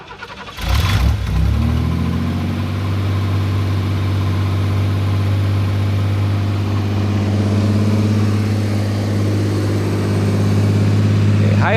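Steady car engine holding a high idle after a stall and restart, a loud even drone with a brief burst near the start, running alone without talk.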